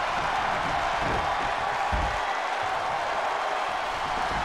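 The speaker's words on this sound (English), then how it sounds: "What a raucous crowd here tonight." Wrestling arena crowd noise at a tag-team match, a broad steady roar of cheering and applause filling the space without a clear break.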